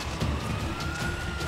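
A continuous police car siren wails through a dense rumble of engine noise in the video game GTA V, steady for the whole short stretch with no voices.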